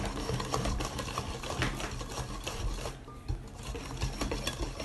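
Chocolate cake batter with cocoa powder is whisked briskly in a bowl, giving a dense, rapid, continuous scraping rattle at close range that eases briefly midway and then resumes.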